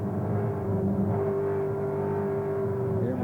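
A TransAm race car powers out of a corner at Road America, Elkhart Lake, its engine holding a loud, steady droning note that climbs slightly as it accelerates.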